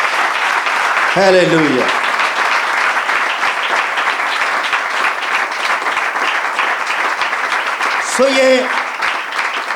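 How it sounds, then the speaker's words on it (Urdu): A church congregation applauds for God during a pastor's sermon, sustained clapping throughout while a voice speaks briefly near the start and again near the end. "آئیے اس خدا کے لیے زوردار تالیاں بجائیں جو زندہ ہے."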